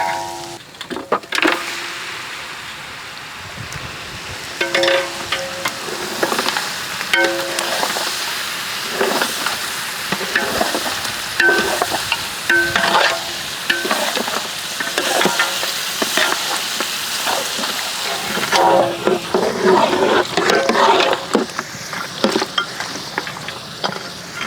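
Mutton sizzles and fries in oil with ginger-garlic paste and turmeric for a Hyderabadi biryani, a steady crackling hiss broken by repeated scraping stirs of the pan, close and fairly loud throughout with no talking.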